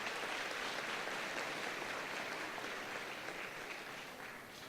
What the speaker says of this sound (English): Let's give them a round of applause regardless